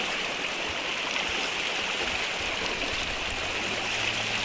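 A waterfall near Adoni pours down from above, a constant loud rushing hiss with no pauses and no voices.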